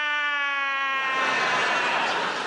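A voice imitates a wave-pool wave machine's siren, starting as a rising wail and breaking into a loud, breathy rush up close.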